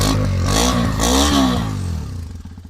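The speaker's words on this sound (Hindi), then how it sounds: "आपको इसका एग्जॉस्ट नोट भी सुनाता हूँ फटाक से।" Hero Xpulse 210 adventure motorcycle revving its exhaust up and down, a loud close throaty rise and fall that settles into a lumpy idle with distinct popping pulses at the end.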